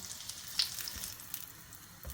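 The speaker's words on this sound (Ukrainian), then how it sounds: "Смажимо їх на середньому огні під кришкою з одного боку 4 хвилиночки приблизно" Soft, steady sizzling of onion and cheese frying in a covered pan over medium heat, with small crackles and pops over a quiet continuous hiss.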